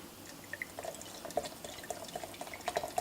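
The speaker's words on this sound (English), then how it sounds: "A little bit more water." Water poured into a blender of fruit smoothie made with guava puree, soft irregular trickling and dripping, quiet and close, with no talk.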